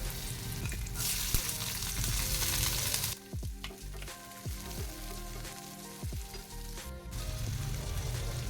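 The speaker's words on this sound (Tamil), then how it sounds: "பூண்டு இந்த அளவு வதங்கும் போது நம்ம இப்போ வெங்காயம் சேர்த்துக்கலாம்" Garlic sizzles steadily in a hot pan, then onions drop in and the frying turns to a crackling stir with intermittent spatula scrapes, close and continuous, no talk.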